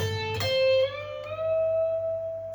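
Electric guitar double string bend: a plucked note rising in pitch, then a second bend pushing it higher, sustaining cleanly and close with nothing else playing.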